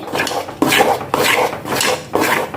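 A utensil stirs thick batter in a pot on the stove in four or five firm, rhythmic scraping strokes, each a gritty rub against the metal, close and fairly loud.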